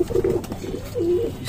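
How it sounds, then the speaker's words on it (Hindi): Pigeons perched in a line on a rooftop give two soft, throaty coos close by, separated by a short pause, over light background noise. "इस साइड पूरे लाइन से कबूतर बैठे हुए हैं छत पे बिल्कुल ही"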